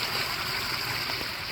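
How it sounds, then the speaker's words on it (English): A garden pond waterfall gives a steady, even rush of falling water, a constant soft hiss with no pauses and no voices. "And the waterfall."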